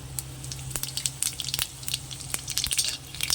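Dried chilli and Bengali five-spice crackle and sizzle in hot oil, close up, with bursts of popping spatter over a steady low hiss and no voices.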